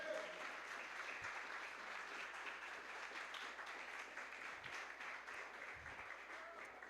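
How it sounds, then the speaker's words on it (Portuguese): A church congregation applauds giving glory to God during a Sunday service, a steady, even wash of many hands clapping, somewhat distant and quiet throughout. "Você pode aplaudir ao Senhor dando glória a Deus mais uma vez?"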